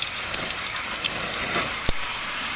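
A water sprayer blasts an air conditioner during cleaning, producing a continuous close, loud hiss of spray with a single short thump partway through.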